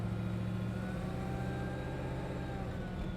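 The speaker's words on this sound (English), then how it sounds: "Love the sound of that supercharger whining under the hood" A restomod 1969 Chevrolet Camaro drives with its supercharger whining faintly over a low, steady engine rumble, heard quietly from inside the car.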